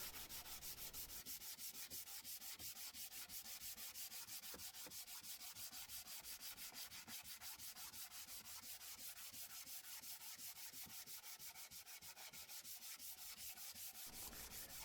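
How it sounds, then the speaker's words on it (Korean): A wooden cutting board is hand sanded with 100-grit sandpaper to cut back its old oil finish and knife marks, making steady, rapid back-and-forth rasping strokes that run close and continuous with no talking. "거칠게 다듬어진 도마 표면을 손으로 이용해서 100번, 100방짜리 사포로 표면을 일단 다듬어 봅니다."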